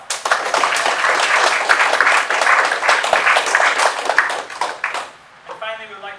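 Loud, close applause fills a military medical graduation ceremony as the crowd claps steadily for about five seconds, then it cuts off and a voice begins over a public address system.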